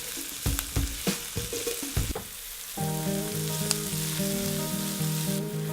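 Salted onions sauté until translucent, opening with several loud spoon clanks and scrapes against the pan, then settling into a steady, close frying sizzle under a continuous background tone.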